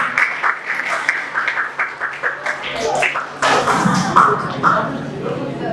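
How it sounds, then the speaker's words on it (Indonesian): Audience applause at a morning session, a round of clapping under a speaking voice that swells louder and denser in the second half, with shuffling and thuds. "Tepuk tangan dong untuk Mbak Devita pada pagi hari ini."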